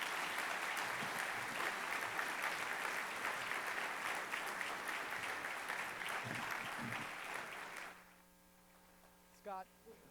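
An audience at a higher-education talk applauds with dense, sustained clapping for about eight seconds before it stops abruptly, leaving a low electrical hum and a faint voice.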